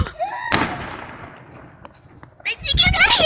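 A single firework goes off outdoors on a frozen, icy night: one sharp crack that trails into a fading crackle. Voices talk briefly before it and more loudly after it.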